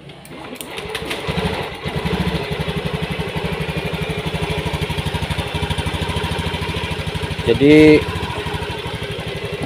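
Motorcycle engine idling close by with a steady, fast, lumpy putter, a brief rev-up near the end, while someone talks over it.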